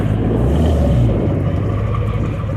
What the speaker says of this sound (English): Let's hear your engine roar